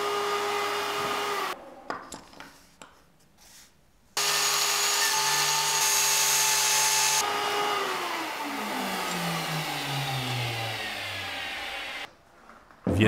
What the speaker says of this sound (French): Tu peux alors prendre une fraise lamello.